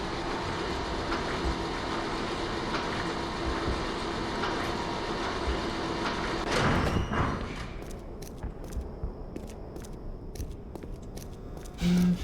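The launch control train in the Black Mesa video game rumbles along its rails with rhythmic clacking and a steady roar, then lets out a loud whoosh and thump as it slows, leaving quieter mechanical ticks and clunks.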